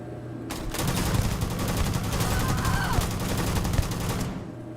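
Rapid automatic gunfire in Starfield, a steady rattling burst of shots lasting several seconds, loud and close, starting and stopping abruptly.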